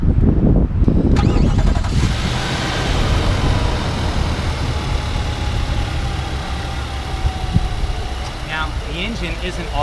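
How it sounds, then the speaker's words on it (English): A 2017 Nissan Armada's engine cranks over and then runs at a steady, fairly loud idle, with a low rumble that continues for several seconds after start-up. "The engine isn't all that loud on the outside, but it's downright hushed on the inside."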